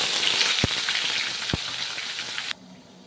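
Onion puree hitting hot oil tempered with mustard seeds, cumin, asafoetida and curry leaves, a loud, steady sizzle with a couple of knocks, cutting off abruptly near the end.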